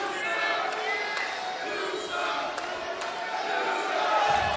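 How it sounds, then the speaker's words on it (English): A wrestling arena crowd boos loudly and steadily through a wrestler's interview on WWE SmackDown, a dense, sustained roar of jeering voices with a few sharp accents and a louder surge at the end. "Before it even starts, people are booing the crap out of it."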